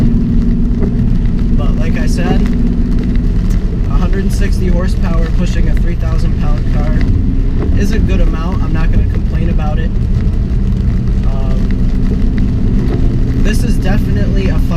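A 2016 Ford Focus SE engine drones steadily while driving, with constant road and cabin rumble throughout, and a person talks over it.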